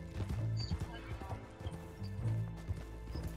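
Horse hooves clip-clopping in the video game Red Dead Online, a fairly close, uneven run of hoof thuds over a low ambient bed, with snorting or whinny-like tones mixed in and speech-like voice sounds in the background.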